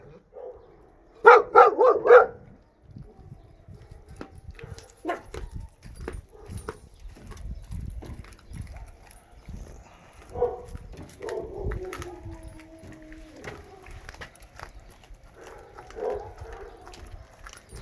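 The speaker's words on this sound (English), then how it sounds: "Sometimes there's stray dogs that decide to come up this way." A stray dog barks in a quick burst of several loud, close barks, then the scene settles into quieter rustling, scattered knocks and faint voices or whining in the background.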